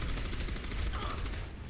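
Rapid automatic gunfire in Overwatch rattles in a fast, even burst, dense and loud, with a synthetic, game-like edge.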